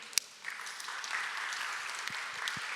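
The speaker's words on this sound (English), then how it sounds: "Clap for anti-capitalism." An audience at a talk on psilocybin and mystical experience breaks into applause after a sharp opening clap, a moderately distant, even patter of many hands that keeps going to the end.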